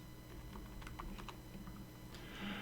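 Fingers typing a password on a computer keyboard during network setup, a quiet run of irregular clicky keystrokes in bursts, close and faint with no talking.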